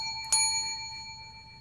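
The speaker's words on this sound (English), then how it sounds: "Ring the bell." A dog strikes a bell on command, giving one sharp metallic ding that rings on with a clear, slowly fading tone.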